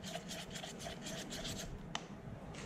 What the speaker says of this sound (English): I'm going to mix the whole thing.